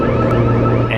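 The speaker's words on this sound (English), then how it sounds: "now there's an alarm going off" Alarm going off near a slaughterhouse during a pig vigil, a steady electronic tone sounding over a low continuous hum, close and fairly loud, with no talking.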